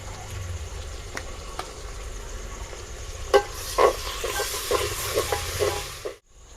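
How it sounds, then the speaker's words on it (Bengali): Onion frying in a pan with ginger-garlic paste and a few broken green chilies, a steady sizzle with scraping stirs and clinks toward the end before a sudden cut to near silence. "আদা রসুন সব ভাজা হয়ে গেছে পেঁয়াজের সঙ্গে"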